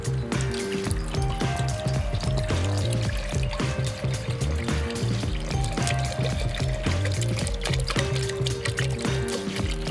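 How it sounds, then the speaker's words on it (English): Water pours steadily into a pot on a wood stove for the whole stretch, a continuous splashing rush with a low rumble underneath. "Let's go ahead and add our water."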